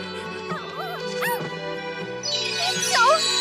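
A puppy whimpers in a fantasy cooking anime scene, several high, wavering whines and yips over a soft musical background, growing brighter toward the end.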